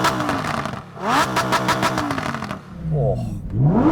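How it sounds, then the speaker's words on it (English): A Lamborghini Huracan V10 revs hard several times in quick succession, its engine note sweeping sharply up and falling back, loud and close, with a further burst of revving near the end. "that just revs up so freely. I love a V10"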